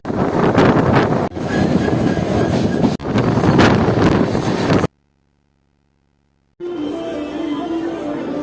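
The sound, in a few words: Avadh Assam Express train running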